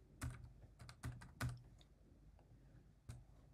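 Keystrokes on a computer keyboard while coding a Python chatbot app, a handful of sharp clicks in two quick bursts and then one isolated tap, near and fairly quiet with no talking.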